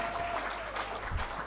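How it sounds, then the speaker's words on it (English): Soft, steady applause from an audience at a youth climate conference, a faint continuous patter of many hands heard from a distance, brief and without talk. "let's give a round of applause to her"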